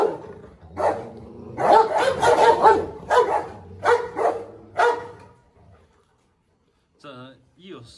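A Presa Canario guarding its food lets out a run of close, loud barks and growls in uneven bursts. The noise dies down after about five seconds, and a faint rustle follows.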